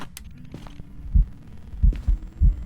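A ghost-event heartbeat from the horror game Phasmophobia thumps in loud, deep, low double beats, repeating at a steady pace over a faint hum, with no talk.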